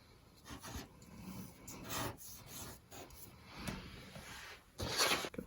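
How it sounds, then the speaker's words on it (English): Paper being burnished down onto a handmade sympathy card with a tool, heard as soft, close rubbing and rasping strokes in irregular bursts, the last one firmest, with no talking. "I'm gonna burnish all this down."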